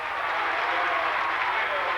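A crowd at a 2002-03 high school boys basketball game between Deering and Biddeford applauds and cheers, a steady dense wash of clapping and roar held loud for the whole stretch.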